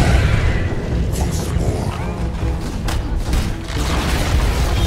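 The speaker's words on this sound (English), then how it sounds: "Radiant's top tower has fallen." A tower crumbling in the Dota 2 video game, a loud, dense rumbling boom with crashing debris that sustains across the whole stretch and has a few sharper impacts layered on top, with no speech.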